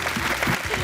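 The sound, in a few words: studio audience clapping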